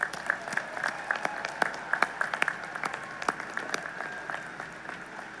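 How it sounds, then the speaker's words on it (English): A university commencement audience applauds staff and volunteers, scattered distinct claps over a broad, moderately distant crowd applause in a large hall. "Will everyone please join me in a round of applause to show our appreciation."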